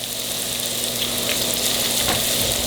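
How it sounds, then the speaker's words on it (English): Hush puppies deep frying in hot oil give a steady, dense crackling sizzle throughout, close and fairly loud, with a faint low hum beneath and no voices. "They cook fast because they are deep fried."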